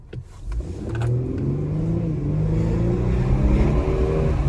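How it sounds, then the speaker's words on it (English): A twin-turbo V6 Infiniti Q50 in sport mode accelerates hard. Its engine rises into a steady, loud drone, with the building revs heard from inside the cabin. "I love the V6 twin turbo, man. Once those turbos kick in, you definitely feel the car, even from a launch point."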